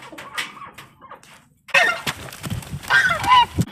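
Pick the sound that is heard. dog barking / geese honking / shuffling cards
geese honking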